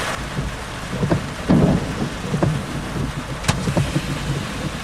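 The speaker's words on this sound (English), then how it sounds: "I think you can still hear it, thunder." Low thunder rumbles under steady rain from a Florida storm about a kilometer away, with scattered sharp crackles and drops close by; no voices.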